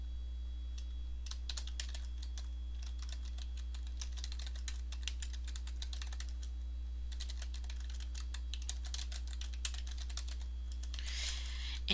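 Steady typing on a computer keyboard while text is entered into linked text boxes in Word 2007, a dense run of close, quick key clicks with brief pauses, over a constant low electrical hum.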